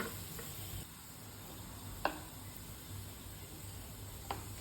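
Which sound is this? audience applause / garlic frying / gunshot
garlic frying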